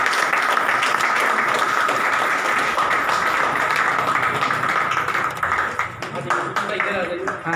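Loud, dense audience applause at an education center opening in Faridabad, continuous for several seconds with a steady rush of many hands, tapering slightly near the end with voices mixed in.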